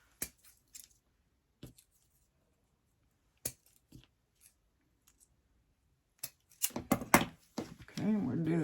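Scissors make several crisp, isolated snips while cutting gloves, spaced out with quiet gaps between them, followed by a burst of rustling and handling noise at the end.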